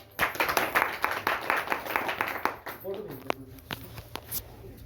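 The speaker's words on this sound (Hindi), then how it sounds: "एक बार जबरदस्त तालियां हो जाए इस कंपनी के लिए।" An audience at a village employment business meeting breaks into loud clapping that stays sustained for several seconds, then thins out into scattered claps under a voice.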